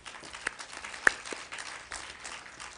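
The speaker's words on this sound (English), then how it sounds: "A round of applause to our speakers." An audience at the Women Economic Forum 2023 gives speakers a round of applause: a quiet, scattered patter of clapping with a few sharper individual claps, heard from some distance.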